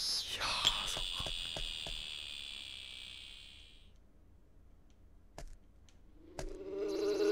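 Bees buzz around a big swaying nest in the video game Boku no Natsuyasumi: a steady, close, high-pitched drone with a few sharp clicks. The drone stops after about four seconds, leaving near-silence before other game sounds begin.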